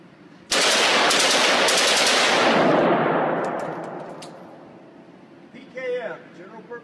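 PKM general purpose machine gun firing one long loud continuous burst, the roar ringing out and decaying over several seconds, followed by a brief voice talking.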